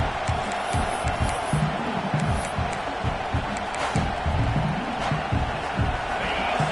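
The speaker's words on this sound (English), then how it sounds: "This crowd, full throat, splitting the eardrums" A packed American football stadium crowd roars continuously at full volume, a dense wall of cheering and shouting that never lets up.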